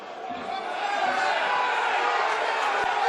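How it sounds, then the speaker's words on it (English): A rugby league crowd at a Batley versus Featherstone match chants and sings in a continuous, moderately distant wash of massed voices, building a little in loudness and holding steady. "As a player, you love to hear the crowd chanting."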